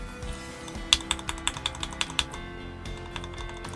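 Fast typing on a KeebMonkey 1800 gasket-mount mechanical keyboard with thin keycaps, a quick run of crisp clacky keystrokes close up, then a pause before a few more taps.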